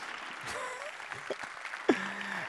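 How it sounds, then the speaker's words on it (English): A crowd applauds with steady, dense clapping that fills the whole stretch, a low hum and a brief tonal blip rising near the end. "Give them a massive round of applause, please."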